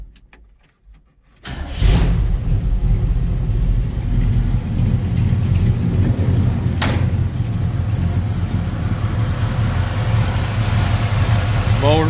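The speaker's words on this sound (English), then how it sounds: "I'll go ahead and fire it up here so you guys can hear it run." A 1957 Chevy 3100 Stepside pickup truck cranks and fires up after a brief quiet moment, then settles into a steady, loud, rumbling idle close by, with one short click midway.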